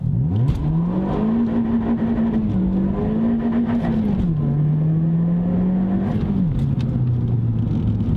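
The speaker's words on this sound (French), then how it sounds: "laissez-moi vous montrer le doux son de la GRMN" Toyota Yaris GRMN engine running steadily and loudly with a sustained drone whose pitch rises and dips through light revving, then settles lower toward the end; no talking.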